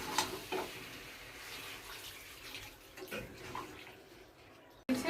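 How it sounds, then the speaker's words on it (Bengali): Water is poured into a pan of simmering white sauce pasta, a quiet continuous splashing and trickle that softens over a few seconds before a sudden clatter at the end. "এখন আমি একটু জল দিয়ে দেবো সিদ্ধ হওয়ার মতো।"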